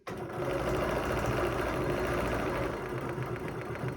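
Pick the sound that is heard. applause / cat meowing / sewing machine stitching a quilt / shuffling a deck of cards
sewing machine stitching a quilt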